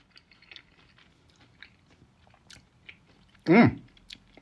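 Crunchy bite and chewing during a taste test of a hoisin-sauced snack, one loud close crunch after quiet mouth sounds, with faint background noise.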